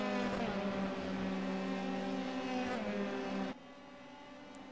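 A race car in the iRacing sim circuit game holds a steady, high engine drone on track at Silverstone, loud and continuous for most of the stretch before it abruptly cuts to a quieter tone.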